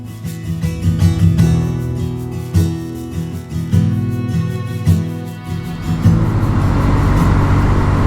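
A Kawasaki W650 motorcycle rides on dry roads on a mild late-January day in central Pennsylvania, its engine droning loud and steady with gear-change dips and surges, then wind and road rush building toward the end.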